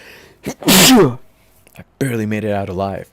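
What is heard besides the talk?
sneeze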